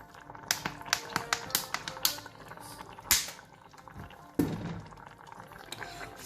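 Water with cooked cassava in a pot keeps bubbling just after the heat is switched off, giving faint irregular pops and taps, some brief louder clatters and a short gush near the end.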